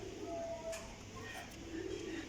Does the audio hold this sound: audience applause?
no